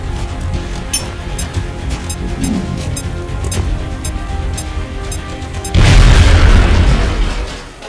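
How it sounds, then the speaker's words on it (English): A grenade explosion in a video game: after a steady low rumble with faint ticking, one loud, close boom bursts out and decays over about two seconds. "Now toss your grenade at the enemy in front of you."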